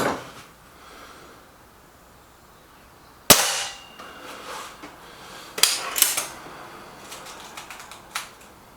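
A .22 pellet air gun fires with one sharp, close crack, followed by a few lighter clicks and knocks of handling and reloading in an otherwise quiet setting.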